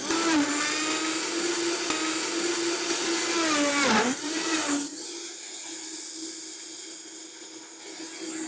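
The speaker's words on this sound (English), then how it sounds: "we're going to blend what we've got here" A blender blending watermelon whirs loudly with a high motor whine that dips as the load shifts, then drops to a quieter, steadier spin.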